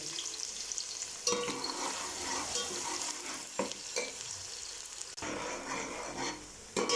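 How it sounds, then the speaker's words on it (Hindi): Faint, steady sizzling of garlic frying in hot ghee, with occasional stirring scrapes and clicks; no voices. "इसमें मैंने डाल दिया है लहसुन। ब्राउन होने तक मैं इसको फ्राई करूँगा।"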